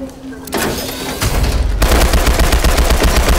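Machine gun fire in Call of Duty Zombies on the map Carrier, a loud, close, rapid continuous burst that starts after a brief lead-in and keeps hammering to the end.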